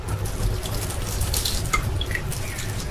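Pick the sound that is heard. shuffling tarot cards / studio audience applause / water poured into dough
water poured into dough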